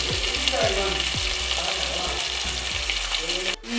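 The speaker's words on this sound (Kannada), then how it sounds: "ಈರುಳ್ಳಿಯನ್ನು ಫ್ರೈ ಮಾಡಿಕೊಂಡು ಸ್ವಲ್ಪ ಇದರ ಹಸಿ ವಾಸನೆ ಹೋಗಬೇಕು ಸ್ವಲ್ಪ ಫ್ರೈ ಮಾಡಬೇಕು" Chopped onions frying in a pan for coastal-style crab sukka give a steady, loud sizzle with repeated scraping stirs throughout, and no talking over it.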